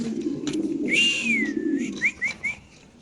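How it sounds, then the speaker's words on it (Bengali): A pair of dragon pigeons at a pigeon farm give a low, continuous cooing murmur, close by, with a few sharp whistle-like tones rising above it. "খুবই সুন্দর একজোড়া কবুতর আপনি দেখতে পাচ্ছেন"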